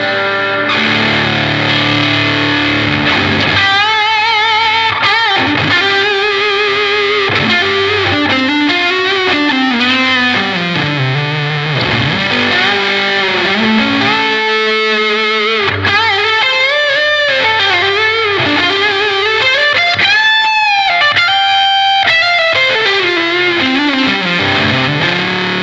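Electric guitar played through a GE Fuzz pedal at full gain, driven harder by a boost pedal, giving a loud, saturated, buzzing distortion that rings out as sustained chords and bending single notes without pause.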